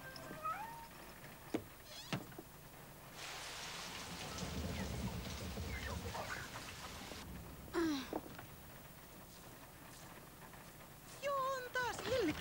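Steady rain falls in a broadband wash through most of the stretch, swelling mid-way, with a cat's meows and a brief thunder-like rumble breaking through and voices speaking over it.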